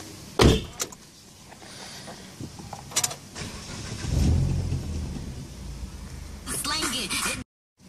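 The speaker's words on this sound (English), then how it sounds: "I'm gonna close the car" Doors of a 2015 Suzuki Swift thump shut, one sharp slam early and another a few seconds later, amid rustling, a low rumble and a final burst of noise before it cuts to silence.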